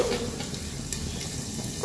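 Pork belly sizzles as it fries in a pan, giving a continuous soft crackling hiss with small pops and occasional stirring noises.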